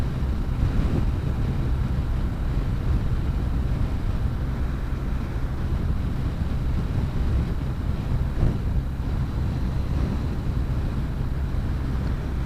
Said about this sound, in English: It's a bit windy, isn't it?